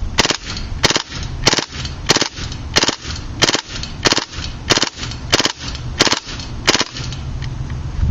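A KWA MP7 airsoft gun fires propane-powered BBs on full auto at a target 100 feet away, giving about a dozen sharp, evenly spaced cracks in a rapid rhythm, loud and close.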